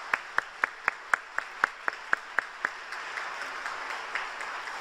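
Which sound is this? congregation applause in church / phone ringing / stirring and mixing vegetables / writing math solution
congregation applause in church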